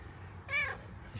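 Kit Kat, a friendly pet cat, gives a single short meow midway through, close and clear over a quiet outdoor background with faint chirps.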